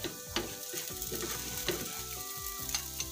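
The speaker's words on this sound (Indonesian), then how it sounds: "nah kita lanjut menggoreng" Kue keranjang, the sticky Chinese New Year rice cake, fries in hot oil with a steady close sizzle, broken by spattering pops and the occasional clink of stirring.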